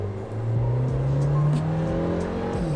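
Suzuki Jimny engine fitted with a throttle controller, revving up steadily from a normal cruising speed, a continuous rising hum heard from inside the cabin with no talk.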